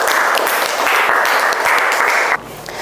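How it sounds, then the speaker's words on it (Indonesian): Classroom group of teachers claps for a group, loud steady applause lasting a couple of seconds before stopping abruptly. "kasih tepuk tangan untuk kelompok 1"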